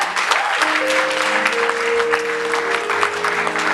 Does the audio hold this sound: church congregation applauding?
yes